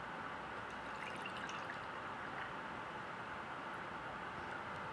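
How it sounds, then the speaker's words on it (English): Juice pours from a carton in a smooth, steady stream, a continuous soft liquid rush lasting several seconds with no glugging, fairly quiet and alone. "I'm gonna pour the juice and let's see what happens."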